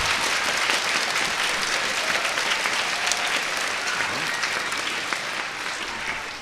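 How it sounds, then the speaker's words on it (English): A school concert audience gives sustained, steady applause for the chorus director, the clapping dense and even throughout without thinning. "let's give him a round of applause as well"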